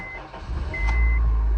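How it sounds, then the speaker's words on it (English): A 2006–2011 Honda Civic engine, newly fitted with a replacement starter, gives a short starter whir with a brief chime before catching and settling into a low, steady idle close by. "So now I'm gonna start the car."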